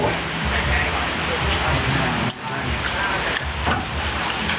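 Heavy rain pours down in a loud, steady hiss that dips briefly midway before surging back, filling the whole scene.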